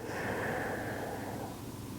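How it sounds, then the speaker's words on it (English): A single deep, long inhale through the nose during a gentle evening yoga stretch, close and breathy, lasting about two seconds with no talk over it. "Full cycle of breath in"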